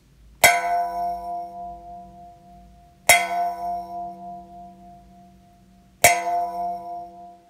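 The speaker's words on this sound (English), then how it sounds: "And now, the US-made bird cone." A Dobro-style resonator guitar fitted with a US-made bird cone rings out in three loud plucked strikes at even intervals, each with a sharp metallic bell-like attack and a long ringing decay.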